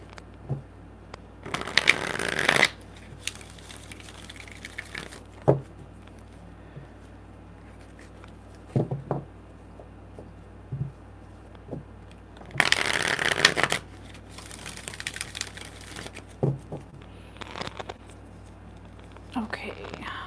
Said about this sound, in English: shuffle these two.